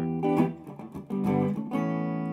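A clean, undistorted electric guitar plays a short riff of picked notes with a brief pause midway, close and clear with no voices.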